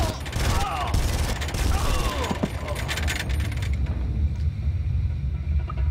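Gunfire in the Far Cry video game, a loud burst of rapid shots with metallic clatter over low rumble that cuts off and fades to quieter background after a few seconds.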